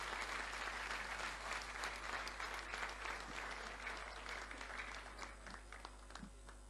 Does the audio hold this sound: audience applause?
yes